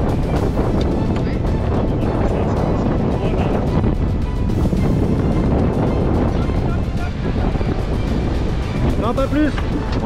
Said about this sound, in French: le vent souffle un peu plus, il est à 22 nœuds maintenant